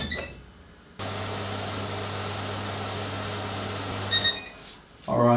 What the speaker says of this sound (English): I'm gonna put this first one in the microwave for 30 seconds